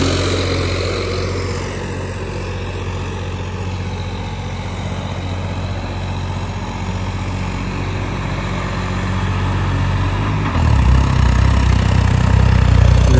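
A John Deere 5310 tractor engine, upgraded to 25 hp, runs in second gear with a steady, loud diesel drone and low rumble throughout, its pitch shifting slightly toward the end as load changes.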